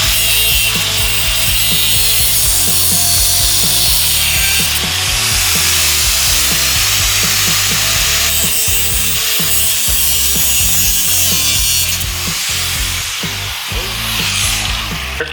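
A loud, continuous abrasive hiss of a sanding pad, not a grinding pad, on a grinder working metal during bobber motorcycle fabrication, steady and close, with rough scraping pulses throughout.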